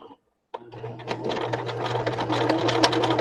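A sewing machine starts after a short pause and runs continuously, stitching a shabby chic fabric clutch; a close, steady motor hum with a quick rattling needle rhythm that grows slightly louder.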